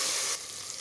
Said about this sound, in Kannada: ಸ್ವಲ್ಪ ಚೆನ್ನಾಗಿ ಫ್ರೈ ಮಾಡಾದಮೇಲೆ ನೆಕ್ಸ್ಟ್ ಟೊಮೊಟೊ ಹಾಕ್ಕೊಳ್ಳಿ